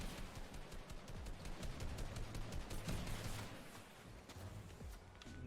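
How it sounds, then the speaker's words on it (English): Gunfire in the battle royale game Fortnite sounds as rapid, distant bursts of shots crackling over a busy, muffled background, with footsteps and a faint voice now and then. "Now there's some shooting at us."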